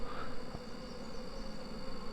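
Honey bees buzzing around a beehive during the rainy season, a continuous close droning hum from many bees with no talking.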